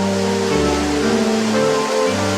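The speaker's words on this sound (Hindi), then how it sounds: "झरने की तीसरी जलधारा सीधे जमीन नहीं छूती, किंतु ढलान पर किसी मदमस्त सैलानी की तरह फिसलती हुई उमंग के साथ जमीन तक" Sajla waterfall, with one stream sliding down a slope to the ground, gives off a steady, unbroken rush of falling water that stays at an even level throughout, with faint tonal sounds underneath.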